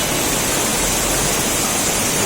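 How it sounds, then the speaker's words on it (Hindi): Waterfall beside the Kedarnath trek route in the Himalayas, a loud, steady, broadband rush of falling water that fills the whole stretch without pause or voices. "अलग अलग हर थोड़ी दूरी पे झरने आपको नजर आएंगे।"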